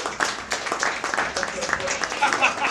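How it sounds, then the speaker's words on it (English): Audience clapping and applause at a folk singing gathering for reluctant volunteers called up from the crowd, a steady patter of many hands throughout with some voices mixed in. "Big round of applause for our not-so-volunteers."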